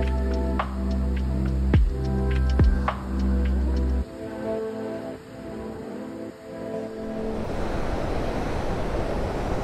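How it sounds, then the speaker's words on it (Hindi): A fast mountain river near Killar on the Sach Pass route rushes over rocks. The broadband roar grows fuller in the last seconds, mixed with wind and droning tones earlier, and no one speaks. "जो बहाव है उसको देखो, क्या पत्थरों को चीरता हुआ निकल रहा है।"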